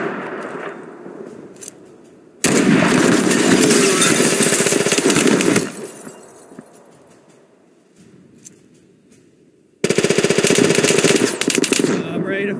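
Loud machine-gun bursts from the Mud and Blood war game at St Lo: a sustained rattling volley, a quieter lull with scattered shots, then another harsh burst at close range.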